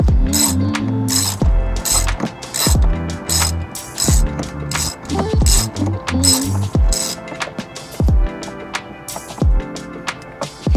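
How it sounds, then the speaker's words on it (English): A socket wrench ratchets bolts off the roof sky panel of a Hummer EV, loud close bursts of rapid clicking repeated in quick runs, each run ending with a sharper clack as the handle swings back. "Now once we have the socket wrench put together, we actually have these two bolts up front and then the two bolts in the back."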